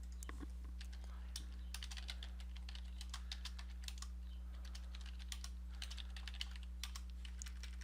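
Rapid clicking of a computer keyboard while entries go into an Excel 2016 worksheet, a steady run of light, close taps over a constant low electrical hum.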